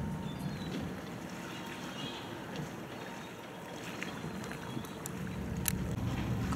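A wooden riverboat with a powerful outboard engine at the back runs fast across the water, a steady low droning hum mixed with broad water and wind wash, heard from a moderate distance with no voices.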